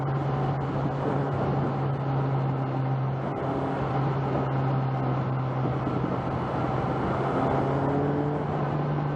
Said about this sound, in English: Don't know if you can hear the burble on this exhaust.